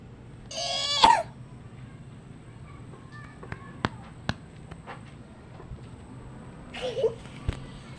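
Two short coughs, one near the start and another near the end, with quiet clicks and faint background sounds in between.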